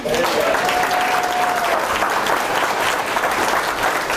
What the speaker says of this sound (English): How many people would agree by a round of applause?